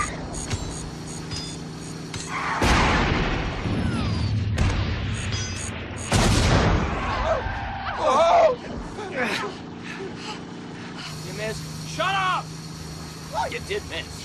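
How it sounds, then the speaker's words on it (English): Grenade blasts in a film chase during a final car race, heard as loud bursts and crashes over engine noise, with shouted voices and babble around them. "Grenades!"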